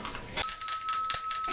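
A small hand bell rings with bright, sustained metallic tones, struck suddenly and shaken in a quick series of close, loud chimes indoors in a home studio setting.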